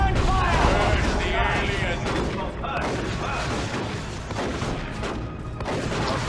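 Dense, continuous gunfire and explosions fill a Warhammer video game battle, loud and unbroken throughout, with voices shouting over the din.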